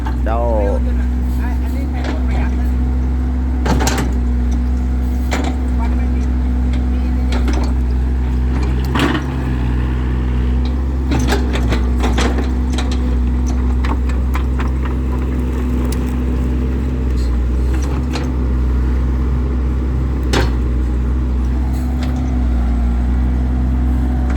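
A tractor engine idling steadily in a sandy work area, a continuous low droning hum with scattered clanks and knocks, while people talk over it now and then.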